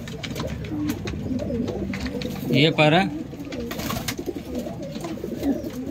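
Pigeons kept for sale coo in low throaty bursts, with a louder warbling call near the middle, while someone speaks briefly over them.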